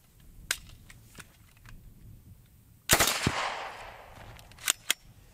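A Smith and Wesson 76 submachine gun with feeding trouble fires the last rounds of a magazine: a few scattered sharp cracks, then one loud, close report with a lingering echo, then two more quick shots.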